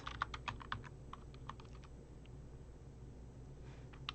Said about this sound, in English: I'm going to type in an else.